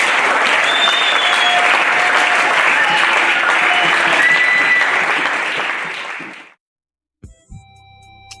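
A church youth seminar audience breaks into loud, sustained applause with cheering in praise of the Lord, the clapping holding steady for several seconds before fading abruptly to silence, followed by a few faint knocks.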